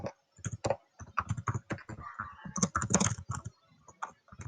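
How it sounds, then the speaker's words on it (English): Fast typing on a computer keyboard, a dense stream of quick, uneven key clicks close by, with brief pauses between bursts. "he is furiously typing."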